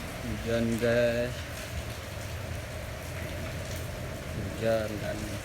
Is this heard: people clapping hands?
no